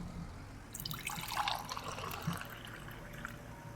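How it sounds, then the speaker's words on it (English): Coffee being poured, a faint liquid trickle and fill that starts a little under a second in and runs for a few seconds over low steady background hum, quiet and close. "pouring coffee ASMR"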